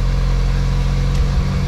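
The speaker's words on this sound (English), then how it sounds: "Let the car idle for a little bit" Car engine idling with E85 injectors fitted, a steady low rumble held evenly and close throughout with no revving.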